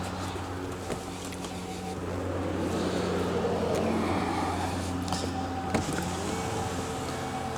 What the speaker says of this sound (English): we are going to put something in that window to see if it will stop and go back down